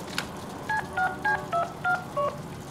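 Six short paired-tone beeps of phone dialing in the Deadpool video game, evenly spaced and clear, preceded by a brief click, with no talk.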